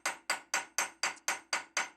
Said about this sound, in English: hammer over the end of the tenon to create a rivet, and in this case I'm using a very small cross-peen hammer